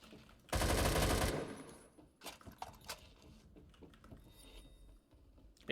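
Rapid automatic AK-12 fire in Roblox Phantom Forces, a loud sustained burst of just under a second followed by scattered softer clicks, shots and game effects.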